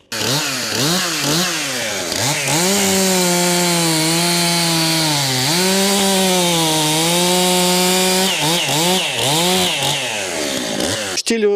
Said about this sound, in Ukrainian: Зараз випробовую новинки бензопили МС ем 261 та МС ем 441